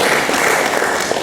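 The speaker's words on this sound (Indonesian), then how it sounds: "Tepuk tangan untuk kita semua." Brief applause from a group, a dense, continuous patter of clapping at fairly close range with no voices over it.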